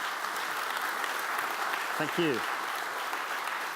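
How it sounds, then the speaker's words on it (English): A conference audience at a Scrum event claps continuously at moderate loudness for a speaker's presentation, an even wash of many hands, while someone briefly speaks over it midway. "give Dave a big round of applause for his great presentation"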